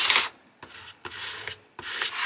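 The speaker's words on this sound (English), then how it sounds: "all I'm going to do is just run over it with my scraper" Plastic scraper rubbed firmly over transfer tape laid on a cardstock card, three close, dry swishing strokes separated by brief pauses.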